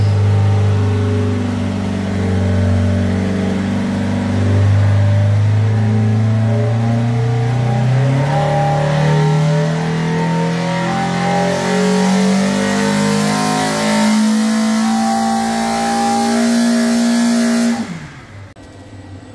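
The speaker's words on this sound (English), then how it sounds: "The engine is running." A loud car engine on a dynamometer with a SuperFlow 901 water brake revs steadily upward from 3,000 to 7,000 rpm in one long continuous sweep, pitch climbing for about eighteen seconds before cutting off abruptly.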